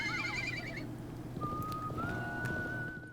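A horse in the video game Live A Live gives a shrill, wavering whinny, followed by a long steady whistle-like tone over faint game background sound.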